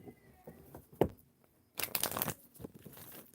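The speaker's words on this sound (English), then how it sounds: "I always like to shuffle my cards up a lot, at least 3 times." Tarot cards shuffled by hand close up, with soft riffling and papery slaps in short separate bursts and quiet gaps between them.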